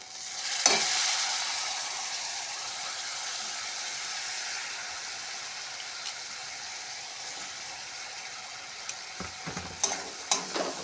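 Red lentils sizzle and hiss in hot spice paste as a spoon scrapes and stirs the pan, with a few sharper knocks of utensil against metal toward the end.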